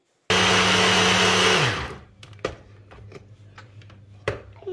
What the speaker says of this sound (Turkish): Doğrayıcımda iyice hamur kıvamını alana kadar doğrattıracağım.